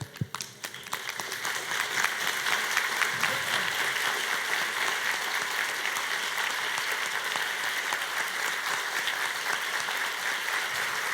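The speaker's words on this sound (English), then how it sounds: "And I think our clapping says it all" An audience in a London lecture hall breaks into applause after a Buddhist teacher's talk, the clapping swelling quickly from a few scattered claps into a steady, even roar that holds to the end.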